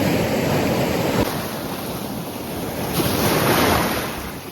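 Black Sea storm waves wash and break close by on a beach at Chornomorsk in a steady rolling roar, with wind buffeting the microphone and a surge swelling louder near the end.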